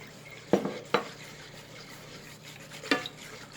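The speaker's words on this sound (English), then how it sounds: "Just briefly mix, because it's gonna go to cook anyway." Sugar is mixed briefly in a pot, giving three scraping clinks of a utensil against the pot, two close together and one a moment later, quiet between them.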